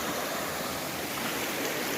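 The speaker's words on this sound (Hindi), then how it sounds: "और पीछे इतना सुंदर झरना" A Himalayan waterfall roars in a steady, dense wash of falling water, close and loud, unbroken and without voices.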